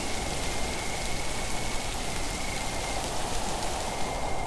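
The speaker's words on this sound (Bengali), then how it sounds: "অতি সামান্য ঝিরঝির বৃষ্টি শুরু হলো" Light drizzling rain falls in a forest, a steady, dense hiss of fine drops that holds evenly throughout with no pauses, fairly loud and close, with no voices.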